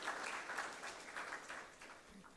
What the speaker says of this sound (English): And give another applause for your lecturers.